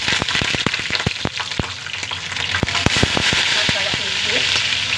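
Green chillies fry in hot oil with a loud, constant sizzle and frequent sharp pops and crackles spread through the whole stretch.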